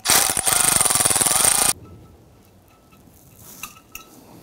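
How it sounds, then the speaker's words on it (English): Rapid ratchet clicking as an extension and swivel socket loosen a 10 mm bolt on a 2011-2015 Kia Sorento 2.4L, a dense close burst lasting under two seconds, then faint metallic taps. "Now what I'm doing is I'm loosening that bolt quite a bit"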